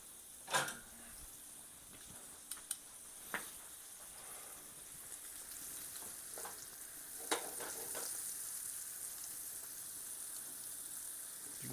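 Steak fries in a pan with a steady soft, hissing sizzle, broken by a few brief scrapes and taps from a utensil.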